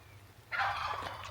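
A turkey-like bird gobbles outdoors in wet weather, one clear rattling call rising suddenly out of a quiet background hum.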